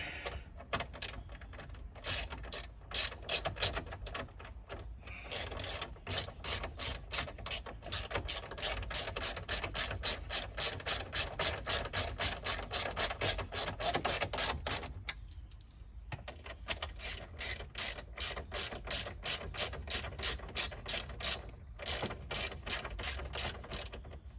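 A ratchet tightens a 7mm bolt during a radio replacement in a 2001 Chevrolet Suburban, rapid rhythmic clicking in long runs broken by brief pauses, close and steady with no voices.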